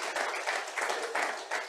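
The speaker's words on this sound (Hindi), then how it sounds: "जोरदार तालियों से इनका स्वागत किया जाए" A short burst of audience applause welcoming a guest onto a stage at a Guar Day event, several hands clapping together in quick waves.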